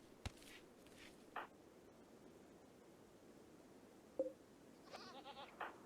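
Goats in the RimWorld video game bleat a few times over a low steady hiss, short calls spaced apart with a cluster of higher-pitched bleats near the end.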